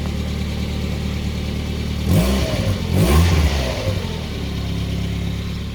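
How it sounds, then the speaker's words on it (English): A cheap used car's engine with a suspected exhaust leak, idling with a steady rumble and then revved twice in quick succession, each rev rising and falling with puffing exhaust, close and loud with no talk. "It's got an exhaust leak, I think."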